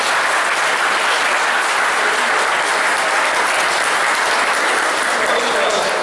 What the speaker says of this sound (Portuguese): Palmas para o irmão Tomé